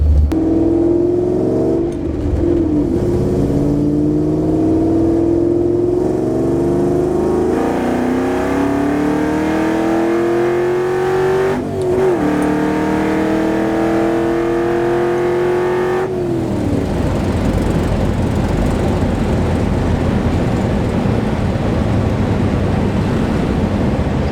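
A nitrous-fed car accelerates hard on a pull with a new nitrous solenoid and fuel pressure regulator, its engine note climbing steadily through several gears with brief dips at the shifts, then giving way to a loud roar of rushing wind and road noise.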